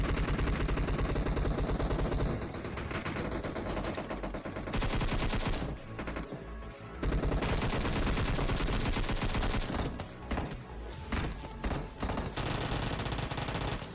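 Loud, sustained automatic gunfire from a PUBG Mobile match fills the scene in dense rapid bursts, with brief lulls and renewed volleys of fast shots over constant game noise.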